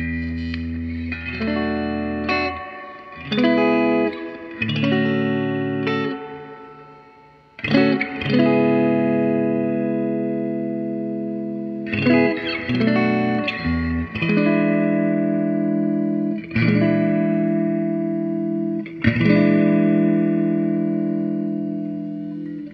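An electric guitar played through a 1978 Roland GA-20 solid-state amp with a 12-inch speaker and its small reverb tank turned up, ringing chords and single notes that sustain with a washy reverb tail, loud and alone.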